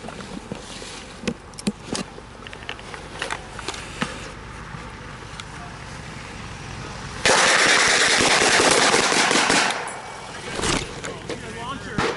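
Rapid machine-gun bursts fire on a German Kubelwagen during a WWII Operation Cobra re-enactment, a sustained loud barrage of roughly two and a half seconds following scattered single shots and bursts, with voices in the background.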